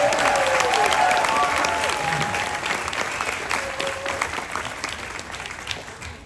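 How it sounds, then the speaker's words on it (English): Audience applause aboard the Carnival Horizon cruise ship during a welcome gathering: steady, dense clapping from a crowd that holds loud for several seconds, then slowly thins and fades, with a faint musical tone underneath. "So let's hear it for Andrea, Lady in Red."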